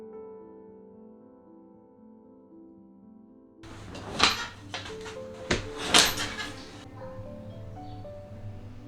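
Wooden drawers and closet fittings open and close while clothes are pulled out and sorted, giving a few sharp knocks and sliding thuds after a quiet start, close by and fairly loud.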